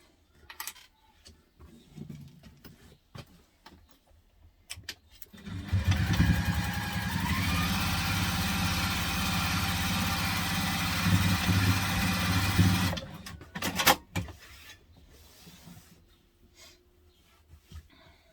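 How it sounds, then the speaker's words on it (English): A close sewing machine runs steadily for about seven seconds, stitching the side of a teddy backpack, with quieter handling noises before and after the burst. "We'll stitch it down again."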